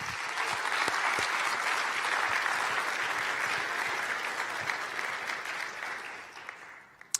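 An audience at a Vue.js developer conference claps for three lightning talk speakers, a dense, steady wash of applause that holds for several seconds and then tapers off near the end.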